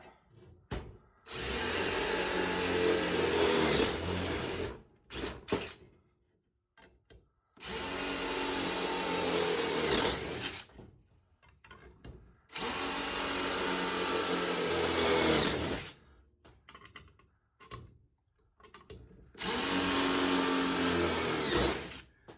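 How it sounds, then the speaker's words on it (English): A drill bores spot weld holes in the rear apron of a 1972 VW Super Beetle, running in four loud sustained bursts of several seconds each, separated by short pauses and brief clanks. "we got to put a couple spot weld holes in it"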